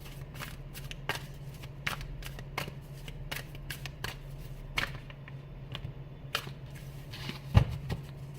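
Close, steady shuffling of a tarot deck, with the cards riffling and tapping in quick, repeated bursts over a low background hum, with no talking.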